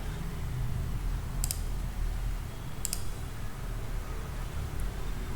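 A computer mouse clicks a few times, sharp isolated ticks spaced about a second and a half apart over a quiet room hum.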